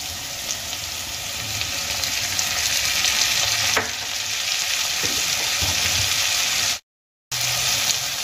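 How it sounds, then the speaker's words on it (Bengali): Chopped tomato goes into potatoes already frying in a pan for a spicy begun aloo jhal, setting off a loud, steady sizzle that carries on unbroken with a brief cut near the end. "এবার আমি এর মধ্যে দিয়ে দেব একটা কুচিয়ে নেওয়া টমেটো"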